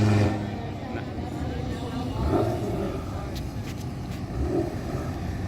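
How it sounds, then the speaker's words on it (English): A turbocharged race car accelerating on a half-mile shootout track, a broad rumbling engine roar that swells and eases, moderately near, with people talking over it. "You hear the turbos on that thing?"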